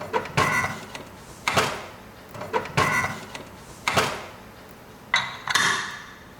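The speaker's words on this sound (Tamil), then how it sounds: "இப்போ குக்கர் மூடி வச்சிடலாம்." A pressure cooker lid being closed over a pot of gravy: a series of about six sharp metallic clanks and scrapes at uneven intervals, close by and with no talk.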